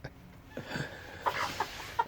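Soft, scattered clucks from small serama bantam chickens, a few short calls standing out over quiet background rustle.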